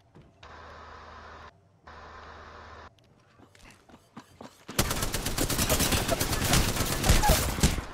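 Two mechanical whirring bursts give way to dense, rapid gunfire that continues loudly and steadily, like automatic weapons in a game.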